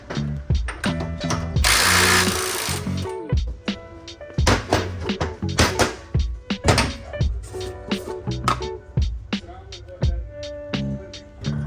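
Tools clatter and ratchet while a Ford Fox Body's FDF angle kit and suspension are bolted together: dense, rapid metallic clicks and clanks close by, with a loud burst of hiss or power-tool whir early on.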